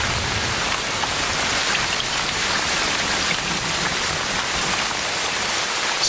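Heavy rain pours steadily over the Amazon rainforest, a dense, continuous hiss of drops striking foliage and ground, loud and unbroken throughout.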